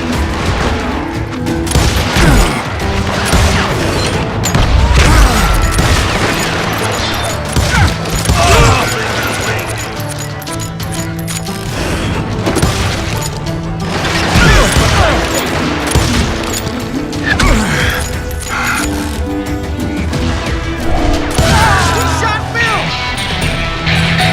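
Gunfire in the western shooter game Call of Juarez Gunslinger: dense, loud bursts of shots, booms and clattering mechanisms in a continuous firefight, with shouted character voices over the top.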